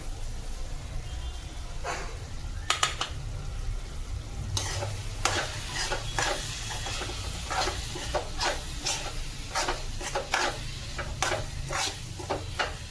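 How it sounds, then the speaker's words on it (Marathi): Spiced chicken keema with onion-garlic masala, garam masala, turmeric, coriander and cumin powder sautéing in oil, a continuous sizzle with repeated scraping strokes of a spatula against the pan. "तर तेल सुटेपर्यंत आपण मस्तपैकी याला परतून घेणार आहोत."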